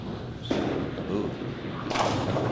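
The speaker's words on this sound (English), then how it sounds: "You could hear that ball hit the lane too." A candlepin bowling ball striking the lane during a championship match, one sharp thud followed by rolling rumble and a second burst of noise, heard under a hall's ambient murmur.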